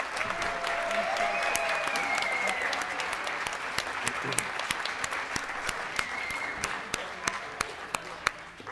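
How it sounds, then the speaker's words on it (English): A crowd at a high school male pageant applauds in a sustained, dense round of clapping that thins toward the end, leaving scattered individual claps. "one final round of applause for every single contestant"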